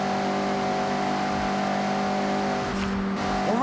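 A Mazda MX-5 engine revving and accelerating while cornering in the Forza Horizon 6 video game, a steady droning tone with a pitch shift near the end, close and loud with no talking.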